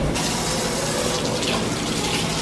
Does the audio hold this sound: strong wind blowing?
no